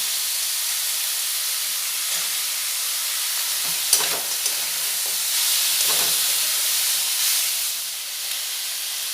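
Chopped tomatoes hit a hot pan while making a Bengali-style chicken curry, giving a steady, fairly loud sizzle and hiss that carries on throughout, with a few light stirring clinks near the middle.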